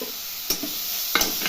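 Melted ghee sizzles in a pan as frying begins, a steady close hiss broken by a couple of sharp stirring clacks.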